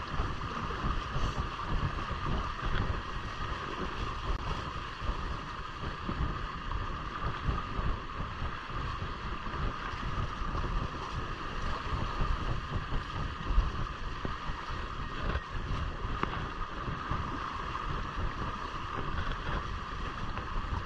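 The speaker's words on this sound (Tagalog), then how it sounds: "Ay, tumulin. Ayan, bumumbang hangin." Steady wind buffeting a microphone over a constant low rumble on a Hobie Cat sailboat moving through open water during a sea trial, with no talking.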